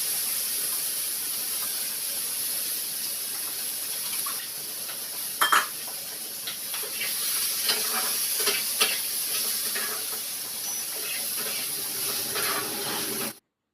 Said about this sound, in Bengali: এবারে বেগুন ভাজা করব, নিম পাতা দিয়ে বেগুন ভাজা করব।